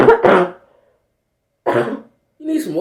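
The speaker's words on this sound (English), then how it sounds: "You coughing all over me." A man coughs and clears his throat in bursts at close range, a harsh cluster at the start, then after a pause two more rough coughing bouts, with no talk over them.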